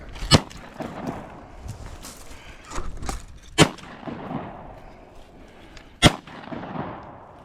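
Shotgun fire at a group of birds during a morning hunt: three loud, sharp blasts spaced a few seconds apart outdoors, with quieter shuffling and rustling between them.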